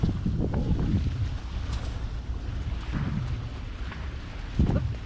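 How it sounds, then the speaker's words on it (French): Wind building over the sea aboard a sailboat bound for the Bahamas, a constant low roar of gusts buffeting the microphone with the rush of water and hull motion underneath. "Le vent se lève."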